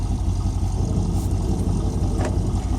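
A Chevy small-block 355 V8 with port fuel injection runs at a steady idle, its exhaust a dense, even rumble heard close and alone.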